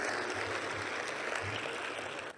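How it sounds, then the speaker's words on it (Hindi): Audience clapping at a live poetry event in Jaipur, a steady dense spread of hands that holds loud and even for about two seconds before cutting off abruptly. "एक बार ताली बजाकर अनुमति दे दीजिए कि आज के कार्यक्रम को हम शुरू करें।"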